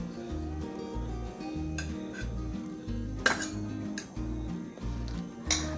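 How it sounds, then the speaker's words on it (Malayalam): Grated coconut being spooned into a coconut-shell puttu mould for beef puttu, with light metallic clinks and scrapes of utensil against shell and dish over a soft, steady rhythmic background. "ഞാൻ ഈ ചിരട്ടക്കുറ്റിക്കകത്താട്ടോ നിറയ്ക്കുന്നത്"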